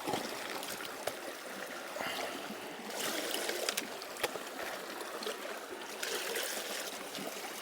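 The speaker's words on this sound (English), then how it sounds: "Let me just fill this up with some more water." A gold pan is filled with stream water while someone digs in a deepening hole: a steady, close rush of flowing and splashing water fills the scene, with a few sharper sloshes and splats along the way.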